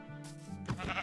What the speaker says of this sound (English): But we found 4 sheep.